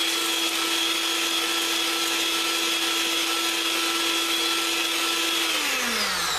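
An electric mixer whips cream to stiff peaks with a steady, close motor whine that drops in pitch near the end, with no talk.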